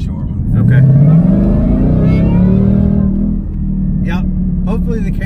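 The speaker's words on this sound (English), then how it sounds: "more of that glorious whine that comes from the Supercharger" A 2018-2019 Mustang GT with a Whipple supercharger revs loudly from inside the car in traffic, the rising supercharger whine climbing over the engine roar, with someone speaking briefly afterward.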